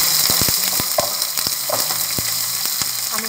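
Onion, green chili and garlic fry in hot oil in a pan, giving a steady close sizzle with scattered sharp crackles and a few spatula taps, with no talking.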